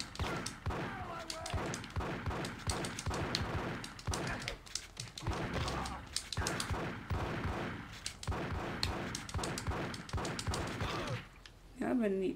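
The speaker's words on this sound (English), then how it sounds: "At least they shooting back a little bit." Near-continuous rapid gunfire and shots in GTA Chinatown Wars, a steady barrage of loud pops and bursts that goes on throughout with brief lulls, and voices speak now and then.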